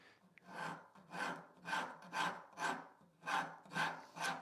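A coarse wood rasp shapes a wooden table leg, fine-pointing its edge in about eight steady back-and-forth strokes, each a close, crisp rasping scrape with brief pauses between.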